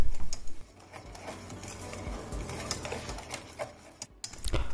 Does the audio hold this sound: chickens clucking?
no